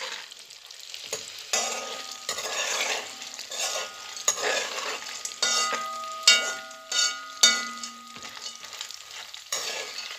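Pasta horns are stirred in a frying pan, with repeated scraping and clinking of the utensil against the pan over a light sizzle, close by and without talk.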